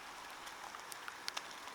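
Rain falls steadily in a garden, a soft even hiss broken by a few sharper drips and patters, with no one speaking.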